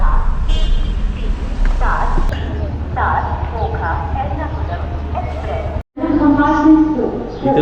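Railway station at 5:30 in the early morning, busy ambience with a low rumble of vehicles, short horn toots and people talking nearby, briefly cutting out near the end.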